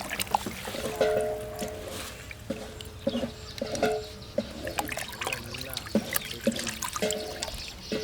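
Quail meat is rinsed by hand in turmeric water, with soft trickling, sloshing and small splashes of liquid continuing steadily at close range in an outdoor village kitchen.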